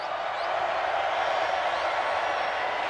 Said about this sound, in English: Here comes a Razorback crowd.